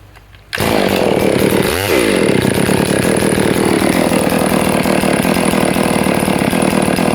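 A Stihl MS460 chainsaw starts and runs loud and close at a steady idle during a carburetor test, with one brief rev-like sweep early on before settling into a constant buzzing drone.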